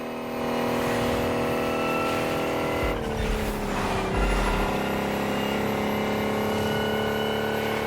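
An electric Lotus car in the racing game The Crew Motorfest drives with a steady, smooth motor whine and a brief rushing swell partway through. The sound stays close and continuous, with no engine roar.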